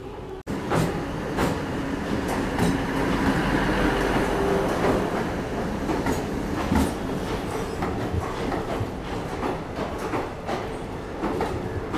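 A crowded DEMU passenger train on the Bengaluru to Hassan line rolls into a station platform, a loud steady rumble with rhythmic wheel clatter and faint squeals throughout.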